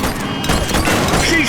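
A burst of gunfire in the police video game The Precinct, with sharp, close shots packed into a quick volley under a voice shouting over the action.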